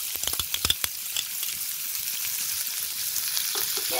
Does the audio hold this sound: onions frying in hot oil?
yes